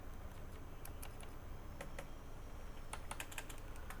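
Typing on a computer keyboard, rapid soft key clicks in short bursts with pauses between them, fairly quiet and close.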